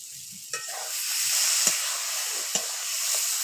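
Dal sizzles steadily in a hot pan while it is stirred, with a broad frying hiss and a few soft scrapes and taps of the spoon. No one talks.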